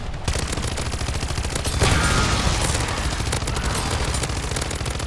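Rapid, sustained submachine gun fire in the video game MW3 Zombies, a dense run of shots repeating steadily for several seconds, loud and close, swelling briefly partway through with no talking.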